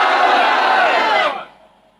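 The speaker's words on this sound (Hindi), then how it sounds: "अगर आप मर्द हैं तो जोर से नारा लगाइए" A crowd at a religious gathering loudly chanting the Takbeer slogan in response, a single massed roar of voices held for just over a second, then cut off abruptly into near silence.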